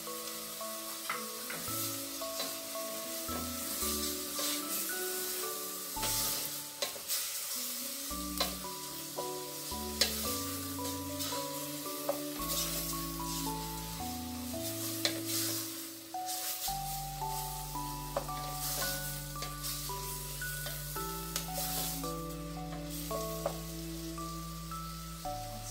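Chorizo frying in a pan, a close, steady sizzle and crackle that runs without pause, with occasional utensil knocks and stirring scrapes while quiet tonal music plays underneath.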